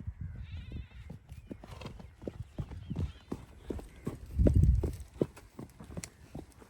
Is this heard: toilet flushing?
no